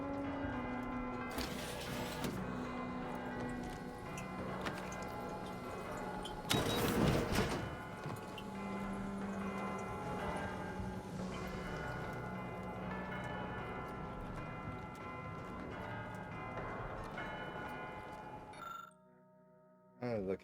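Church bells in the video game Outer Worlds 2 toll in sustained, ringing tones, faint and set back under game sounds, while someone speaks over them.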